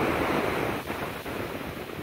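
Ocean surf breaks on the beach at Rodanthe in the Outer Banks, a steady, loud wash of crashing waves with wind buffeting the microphone throughout.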